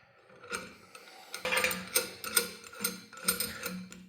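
A clutch compression tool is worked on a Yamaha Wolverine 850 or RMAX 1000 clutch spring, giving a series of close, crisp ratcheting clicks in short repeated bursts.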